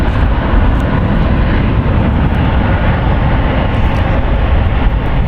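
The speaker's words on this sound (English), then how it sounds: "United Airlines Flight 1561 going to Portland. It's an Airbus A319" A 25-year-old United Airlines Airbus A319 roars at San Francisco International Airport, a loud, steady, broadband jet engine rumble that stays constant from start to finish with no voices.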